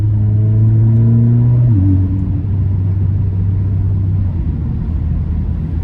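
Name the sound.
Alfa Romeo Giulia car engine while driving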